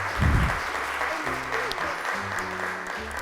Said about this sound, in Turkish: Ve Gülsimay'ı alkışlarla çağırıyorum.